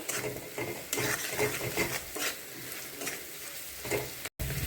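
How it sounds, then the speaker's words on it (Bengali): Fried potatoes being stirred into spice masala for a katla fish curry, a spoon scraping and tapping the pan over a steady close sizzle of frying. "এখন এটা সব মিশিয়ে একটু সময় কষিয়ে নেব।"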